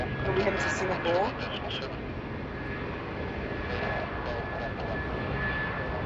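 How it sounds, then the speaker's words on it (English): A Jetstar airliner takes off from runway 16 right at Sydney Airport, bound for Adelaide, its engines making a continuous broad roar while a voice talks over it. "It's a little Jetstar taking off."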